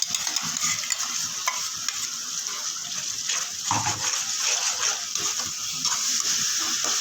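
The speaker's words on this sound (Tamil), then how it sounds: "நல்லா பச்சை வாடை போகிற அளவுக்கு நல்லா வதக்கிடலாம்" A ground paste of tomato, coriander and mint sautés in a pan for a spicy semiya dish. A steady, loud sizzle runs throughout, broken by scraping stir strokes, with no talking.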